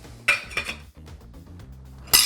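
A metal lid clanks onto a pot of sauerkraut soup with a couple of light clinks, followed by a final sharper clatter.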